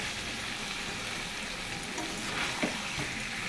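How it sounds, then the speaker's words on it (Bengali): Tomatoes frying in a pan with salt and turmeric, a dense, steady sizzle up close with faint crackles and a brief stir near the end, no voices. "টমেটোটা একটু কষাতেই হবে, আর টমেটো না দিতে ভালো লাগবে না। আর দিয়ে দিলাম সঙ্গে নুন, হলুদ।"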